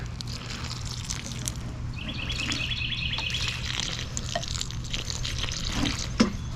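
Cucumber plants in dirt get a good soaking with water, heard as a steady, soft wet rush, with birds chirping and a few faint drips in the background and no voices.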